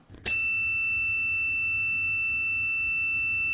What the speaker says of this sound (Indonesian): Kalau kita tes pakai multitester di mode buzzer, terminal kontaknya terhubung saat relay kondisi on